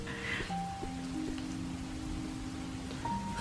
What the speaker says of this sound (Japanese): なんか進むごとに雨も強くなってる気がするね